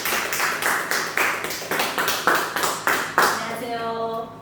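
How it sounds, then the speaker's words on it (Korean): A church congregation claps in unison to welcome a guest speaker, a sharp, rhythmic beat of about a dozen even claps, ending as a voice begins to speak. "나오실 때 우리 박수로 환영하겠습니다."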